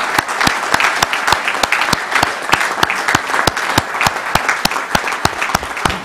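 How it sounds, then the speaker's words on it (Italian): An audience gives a warm welcome round of applause for new club members at a meeting in Riolo Terme, steady sustained clapping with sharp individual claps standing out throughout. "e a voi di accoglierli con un applauso di benvenuto"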